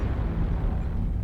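A destroyed Spider mech bursts apart in MechWarrior Online with a loud, close, rumbling explosion that fills the whole moment as one sustained low roar, no voices over it.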